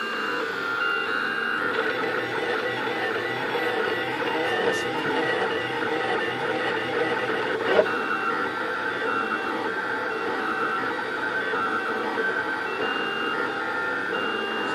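Rostock Deltabot delta 3D printer running a print, a continuous whine of stepper motors with shifting tonal pitches and faint clicks, steady and close, with no speech.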